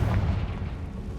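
A single heavy, rumbling blast from the Confringo spell in Hogwarts Legacy, loud and close, its deep boom filling the brief moment without talk.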